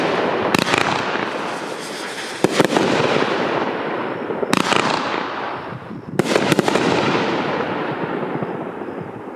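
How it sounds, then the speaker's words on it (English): A Wasabi 15-shot XL aerial finale set fires in rapid volleys: sharp launch thumps followed by sustained crackling and booming bursts, loud and close, in several waves. "This is a 15 shot XL aerial finale set."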